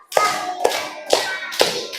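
A class of second-grade pupils claps together in a counted pattern, four sharp group claps evenly spaced about half a second apart, close and clear with a short ringing tail after each.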